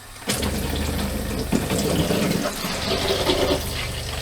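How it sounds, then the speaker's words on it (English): RV shower faucet opened during winterizing, starting with a sudden gush and then a steady, loud rush of running water and hiss through the hose that continues unbroken. "Gonna put that shower hose down in there, and we open our faucet."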